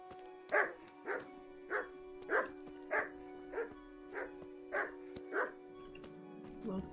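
A dog in the medieval game Kingdom Come Deliverance barks about ten times in an even, steady rhythm, fairly close, over a low steady hum.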